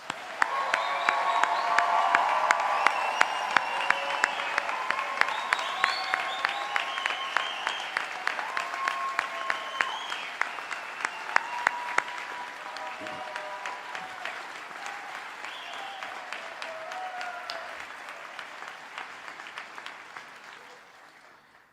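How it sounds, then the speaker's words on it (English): An audience at a university graduation ceremony breaks into sustained applause, dense and steady for over twenty seconds and slowly thinning toward the end, heard from a slight distance in a large hall. "Let's give a round of applause for our graduates one more time."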